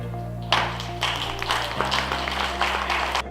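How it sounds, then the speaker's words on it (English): Freshman students at a university seminar applaud together in a hall, a loud, dense burst of clapping that starts suddenly and holds steady for about three seconds over a constant background hum. "please give yourself a round of applause so I can understand that you enjoyed today"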